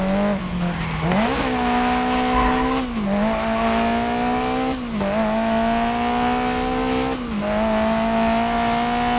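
In Grid Legends, a race car's engine drones loudly and steadily while the car slides through a corner on a touch of handbrake. Its pitch dips and climbs again at each of several shifts, and tires hiss underneath.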